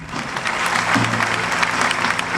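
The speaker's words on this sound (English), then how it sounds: "Clap your hands for them." Crowd applause at an outdoor evangelistic crusade in a busy international market, steady dense clapping sustained throughout at an even level, with a low hum beneath.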